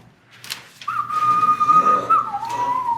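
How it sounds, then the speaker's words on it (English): A person whistles a sustained, wavering tune close by, the clear tone holding steady for a couple of seconds before bending downward, after a few breathy sounds. "Keep whistling."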